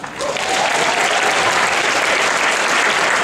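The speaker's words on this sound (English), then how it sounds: "please give a warm round of applause for Nora and Bruce Mai" A large audience at an anime convention cosplay masquerade breaks into steady, loud, sustained applause for guest-of-honor judges, a dense wash of hands with no pause.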